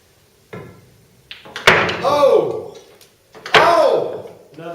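Two hollow wooden clunks sound inside a bar billiards table as its internal bar drops shut, each with a short ringing tail, close and fairly loud.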